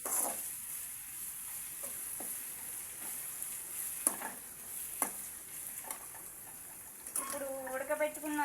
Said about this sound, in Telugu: చూసారా ఎర్రగా ఇలా వేగలన్నమాట